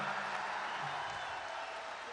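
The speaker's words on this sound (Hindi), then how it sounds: "तालियां जोरदार बजाओ एक बार" Crowd at a Hindi comedy show claps together in a sustained, dense round of applause, with a faint murmur of voices mixed in.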